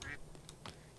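A short, faint quack from a duck in the Roblox game Obby But You Are A Bird, a brief nasal call over a quiet background.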